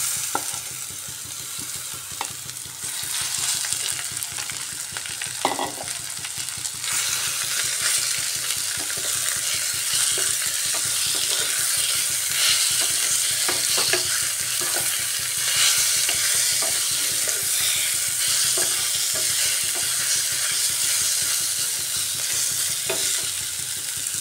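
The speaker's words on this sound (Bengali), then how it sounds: "এই পর্যায়ে এসে দিয়ে দিচ্ছি ম্যারিনেট করে রাখা চিকেন।" Marinated chicken fries with onion, garlic and ginger for a chicken chickpea ghugni, a continuous loud hiss of oil with frequent scraping and stirring knocks from a spatula running steadily for over twenty seconds.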